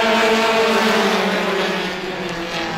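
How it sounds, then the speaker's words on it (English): Race cars in a Roadrunner heat at Star Speedway roar loudly together at the start, a dense sustained engine drone that eases slightly toward the end. "Roadrunner heat race number one is underway"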